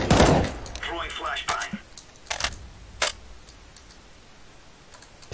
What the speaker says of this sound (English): Flashbang. Throwing flashbang.